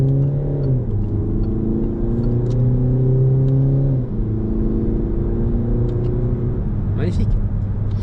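A Peugeot 3008 GT Line, a heavy car with a modest engine, drones steadily from inside on an open road, its engine note dipping briefly twice as it pulls along.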